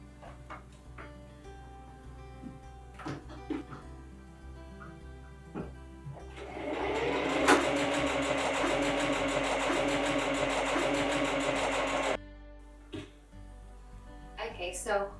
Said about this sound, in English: we will fold it in half and sew a beautiful straight stitch